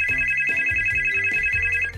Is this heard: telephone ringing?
yes